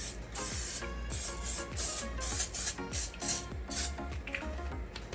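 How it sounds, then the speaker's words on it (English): Close, repeated hissing spray bursts of cooking spray mixed with mechanical clicking and rattling, coming in quick uneven pulses, greasing an air fryer. "I'm gonna take some spray because we don't want these to stick in there."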